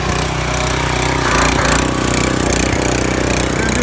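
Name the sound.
Duromax 3100 psi gas pressure washer engine running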